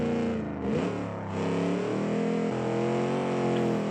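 A Kiev Motors 06 (A11) car engine in the BeamNG driving game, revving steadily with a dense harmonic drone that dips briefly as it shifts, then holds a sustained pull through the gears, loud and continuous without speech.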